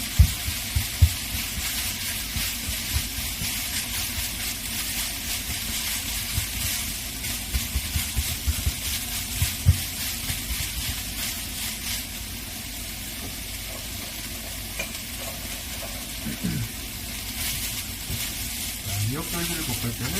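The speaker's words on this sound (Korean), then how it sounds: "미역줄기를 볶을 때는 이렇게" Continuous sizzling of seaweed stems stir-frying over medium heat in a hot pan, a steady hiss with occasional clatters, close by.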